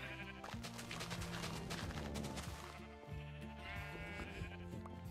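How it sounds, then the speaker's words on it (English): Sheep in Minecraft Bedrock bleating repeatedly, several overlapping wavering game bleats close and loud, with scattered clicks and thumps in between. "it's time to release the sheep."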